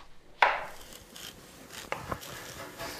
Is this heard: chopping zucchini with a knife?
yes